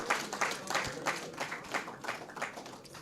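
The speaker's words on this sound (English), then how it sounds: "let's give a hearty round of applause to teams in both divisions" Crowd applause at a semi-professional football league awards ceremony, a diffuse wash of many hands clapping in loose waves, fairly faint and distant, with no speech over it.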